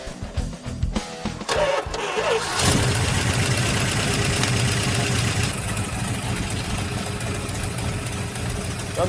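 A '67 Camaro engine cranks with rough stuttering bursts, then fires and settles into a loud, steady, throbbing idle heard up close.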